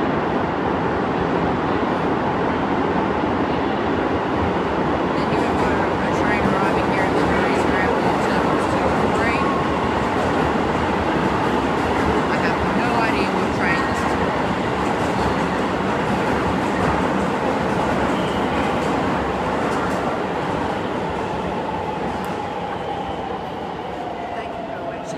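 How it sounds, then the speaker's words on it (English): A train rumbles steadily along a station platform in Narita, Japan, a loud continuous rolling roar with faint clatter and a high brake whine that slowly fades near the end as it comes to a stop; no speech. "Train stops all the way down the platform over there."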